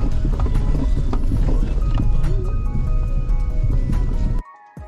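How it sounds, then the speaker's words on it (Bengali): A loose, sagging engine guard under a moving car clatters in a dense, continuous rattle against the road noise for several seconds, then cuts off abruptly into near quiet. "ইঞ্জিন গার্ডটা খুলে গেছে। তো আপাতত কোনো সমস্যা নেই, এটা ডাটা ডাটা আওয়াজ হচ্ছে"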